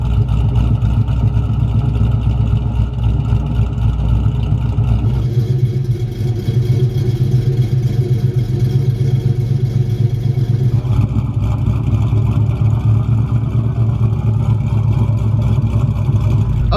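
A 1999–2004 Ford Mustang fitted with an SLP LoudMouth exhaust idles steadily with a deep, loud, continuous rumble and a slight choppy lope, heard alone without talk.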